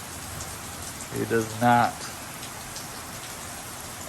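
Rain falls steadily on a rainy weekend, a continuous even patter throughout, with a short stretch of a person talking partway through.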